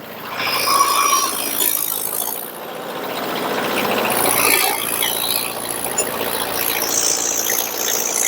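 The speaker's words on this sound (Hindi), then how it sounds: "स्टार्ट हो गया दोस्तों ट्रैक्टर" A tractor with a rotavator runs nearby in a field, giving a steady mechanical engine drone with rattling, clattering machinery noise throughout.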